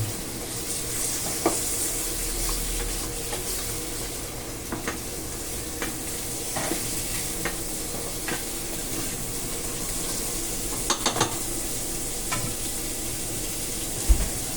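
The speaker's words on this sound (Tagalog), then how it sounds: "Just saute it until the chicken is golden brown." Chicken skin and bones sautéing in a pan for creamy chicken and mushroom, a steady close sizzle with occasional stirring scrapes and clinks, no talking.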